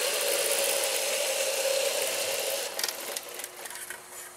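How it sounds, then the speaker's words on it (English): A Roomba-based all-terrain rover robot drives along with a steady high whirring motor buzz that fades and turns rougher and choppier toward the end, heard alone without talk. "Hack number 12, the Roomba robot, all-terrain robot."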